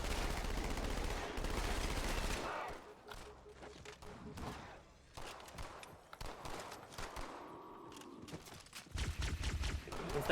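SMG gunfire in the Halo 2 video game, quiet and in the background: short rapid bursts broken by pauses, with scattered thuds and other combat sounds between them.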